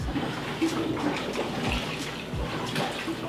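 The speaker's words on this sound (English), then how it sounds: "So I filled the washer up and I just want enough water that I can fully submerge this." Top-loading washing machine filling with water: a steady rushing, splashing flow with low thumps, continuous throughout, heard alone.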